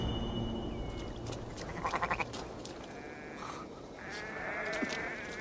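Sheep bleat over a busy ambient bed in the Assassin's Creed Valhalla video game. The calls are brief and moderately quiet, under continuous game atmosphere, and no one speaks.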